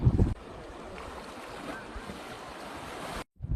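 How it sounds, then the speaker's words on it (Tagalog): Wind buffets the microphone over a constant rush of surf, a steady blustery roar at a lagoon beach in Shimoda, Izu Peninsula, Japan, before a sudden brief cutoff. "Medyo malakas ang hangin"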